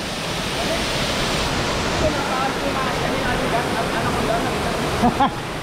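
A waterfall in Subic, Zambales roars as a steady, loud, broadband rush close by, with faint voices briefly audible beneath it.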